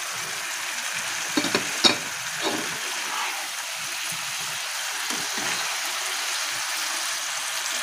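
Eggs and potatoes frying in a pan, giving a soft, steady sizzle and hiss throughout, with a few brief knocks early on and no talking.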